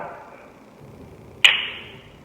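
A single sharp wooden clack from Thai krap sepha wooden clappers rings out once against a quiet background, then fades quickly.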